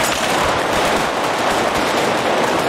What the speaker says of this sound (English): Oh, that's really loud. Who's shooting who?